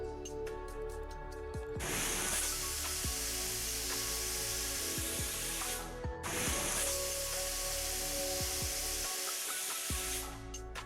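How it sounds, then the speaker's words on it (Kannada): Pressure cooker on the stove cooking togari kalu (field beans) lets off two long, loud hissing steam releases, one after the other, over quiet background music. "ಈಗ ಲಿಡ್ಡನ್ನು ಮುಚ್ಚಿ 2 ವಿಸಿಲ್ ಕೂಗಿಸ್ಕೊಳ್ಳೋಣ"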